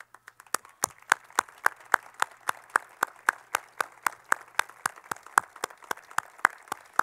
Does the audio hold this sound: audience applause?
yes